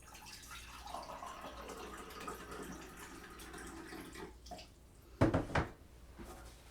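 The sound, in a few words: water washing vitamin off the tongue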